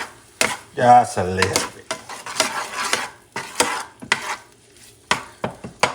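A spoon stirs tomato paste into corned beef in a pot for Puerto Rican carne bif, making scraping, clinking strokes against the metal in uneven bursts, with someone talking briefly near the start.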